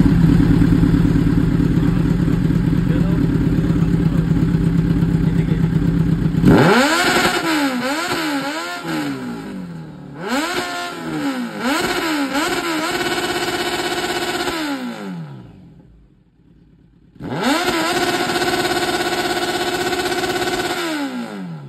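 A Kawasaki Z900 motorcycle engine revs loudly and close by: a steady idle first, then repeated sharp throttle blips with rising and falling pitch, a brief lull, and more hard revving.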